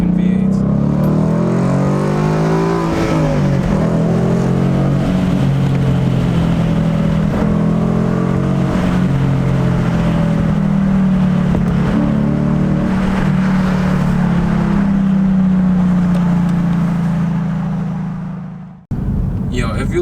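A 2017 Ford Mustang GT V8 roars loudly and steadily for about nineteen seconds, its pitch rising and falling slightly, then cuts off abruptly near the end.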